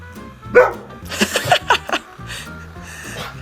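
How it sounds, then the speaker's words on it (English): A dog lets out several sharp barks and yips, loud and close, in a quick uneven burst before settling into quieter background noise. "That wasn't just a bark."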